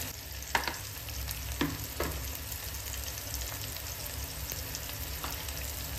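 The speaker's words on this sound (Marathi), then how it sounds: "इथे टोमॅटोसुद्धा आपला चांगला असा तेलामध्ये फ्राय झालेला आहे" Tomato frying in oil in a pan for a spicy okra dish, a steady broadband sizzle with a few sharp stirring scrapes near the start, continuous and close with no talking.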